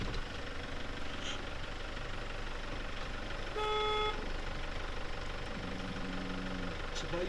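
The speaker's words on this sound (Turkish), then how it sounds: "Bir kornaya bassak o konuşur." Car horn giving one short toot in a village street in Turhal, Tokat, sounding moderately close over an idling engine and low background murmur.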